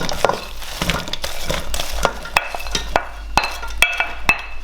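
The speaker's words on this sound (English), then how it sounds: "in a pan at medium heat, we're gonna soften the onion for about 15 to 20 minutes, searing all the time" Onions sear and soften in a pan over medium heat, giving a steady close sizzle broken by frequent sharp clicks and taps of a utensil stirring against the pan.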